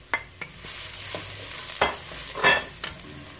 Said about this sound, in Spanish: Aquí mismo agregamos la cebolla, así tronarla un poquito